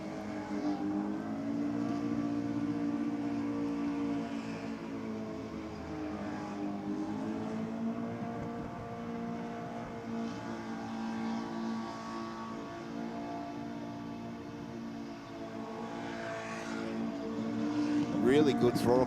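A drag racing car accelerates down the strip at Sydney Dragway during a comp night. A sustained engine drone carries at a distance beneath a commentator's talk and swells slightly toward the end.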